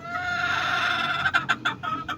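Chickens cluck nearby, a drawn-out call followed by a quick series of short, choppy clucks.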